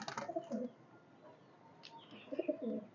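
A pair of blue Saharanpuri highflyer pigeons coos in two short, soft bursts, one near the start and one near the end, separated by a quiet stretch.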